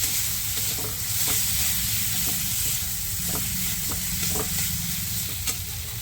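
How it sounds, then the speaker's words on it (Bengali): Masala with turmeric powder sizzles and fries steadily in a pan for a crab dish, with soft repeated scrapes of stirring over the continuous hiss. No voices are heard. "এবার দিচ্ছি হলুদ গুঁড়ো, দিয়ে ভালো করে মশলাটাকে আর একটু কষিয়ে নেব"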